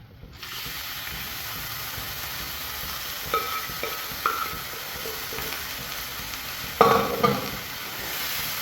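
Beef and jackfruit stir-fry in a hot pan, with a steady sizzle and a few brief scraping stirs heard on their own.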